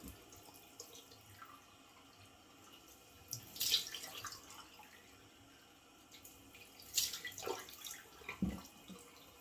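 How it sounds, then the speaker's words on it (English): Running water from a tap with a few brief splashes as cold water is scooped and thrown onto a face, close by and fairly quiet. "2 splashes of cold water in the face to close those pores"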